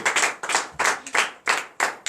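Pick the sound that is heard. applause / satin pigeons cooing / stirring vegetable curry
applause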